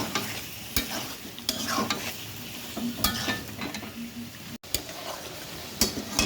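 Stinging catfish sautéed in a pan, sizzling steadily while a utensil stirs and scrapes against the metal in irregular clinks and knocks, close and moderately loud.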